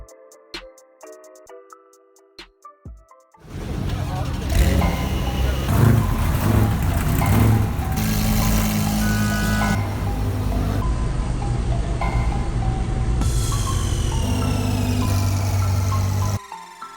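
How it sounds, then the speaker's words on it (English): Supercars, including a Lamborghini Huracan and a Mercedes-AMG GT R, pull out of a wheel shop's open house, loud engines rumbling and revving nearby for over ten seconds with people talking underneath. "Supercars are now heading out."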